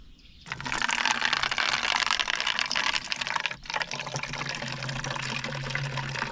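Water gushing into a container to dilute an anti-tick treatment ampoule, starting abruptly and running as a steady close splashing pour with a brief break midway.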